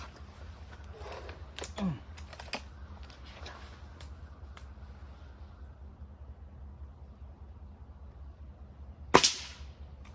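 A Gamo Magnum .22 break-barrel air rifle fires, and a pellet smacks a target with one sharp, loud crack near the end, preceded by a fainter snap and brief movement noises.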